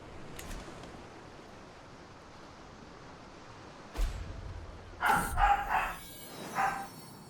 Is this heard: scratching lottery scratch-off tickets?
no